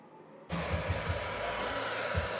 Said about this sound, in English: I am just blow drying her hair and I'm using my Mac Pro 750 watt hair dryer